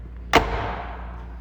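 A single solid thump as a sports car door is shut in a showroom, close and sharp, with a short, quickly fading tail.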